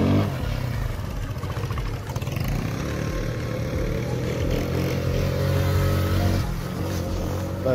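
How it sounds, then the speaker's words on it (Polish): An Italian Fiat Vespa scooter engine runs steadily at a construction site, a loud, continuous buzzing drone close by without pauses. "Fiat Giovespa to jest właśnie włoski skuter."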